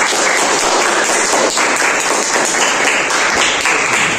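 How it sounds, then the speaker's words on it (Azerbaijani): Loud, dense applause from a group of children and adults breaks out for the winner of a math quiz game. The clapping is steady and continuous at close range with no talk over it. "gürültü alqışlar"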